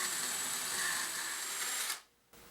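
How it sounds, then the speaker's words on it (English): A drill counterbores into a previously drilled hole in a homemade grinder slider jig, a steady close whirring grind for about two seconds that then cuts off, with a short quiet gap afterward. "And now we just need to counterbore into it some."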